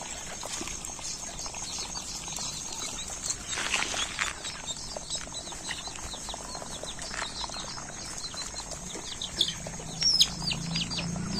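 Country natukodi chickens and chicks at a poultry farm give scattered faint chirps and clucks over steady background noise, with a louder burst of calls now and then and no talk.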